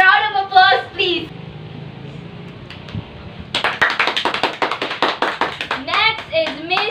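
A talk show audience welcomes the guests with a burst of applause, many hands clapping close and lively after a brief spoken introduction.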